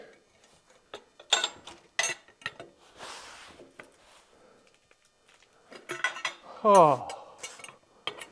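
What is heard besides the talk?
metal wrench clanking on backhoe hydraulic cylinder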